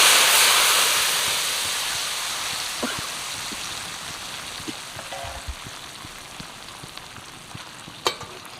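Tamarind juice poured into a hot frying pan for pulihora sets off a loud, rushing sizzle that gradually settles into a softer bubbling, broken by a few small clinks.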